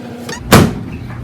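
A microwave door shuts with a single firm, close thud and brief rattle while a s'more is being heated, set against a quiet room hum.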